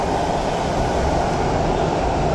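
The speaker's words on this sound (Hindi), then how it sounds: "अभी मेट्रो लाए हो" A Mumbai Metro train passes close by, a steady loud rumble and roar of wheels and motors that holds constant throughout with no voices.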